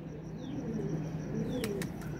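Flying pigeons kept on a rooftop coo low and rhythmically nearby, with a couple of quick wing flaps and faint chirps over a steady background hum.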